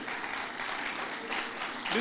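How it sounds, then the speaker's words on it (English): Conference audience applauding at an annual professional gathering, a thin, steady patter of clapping heard somewhat distant and muffled over the whole short stretch. "Yeah, you clap."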